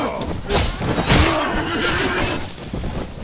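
A horse in the Mount & Blade Warband video game gives a loud, close whinny with a rising and falling wavering call, set against battle noise and background clatter.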